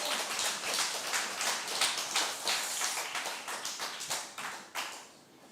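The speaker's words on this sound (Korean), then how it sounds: "박수하세요." A church congregation at a Sunday worship service claps in quick, uneven bursts, fairly soft and distant, with individual claps standing out in a scattered rhythm.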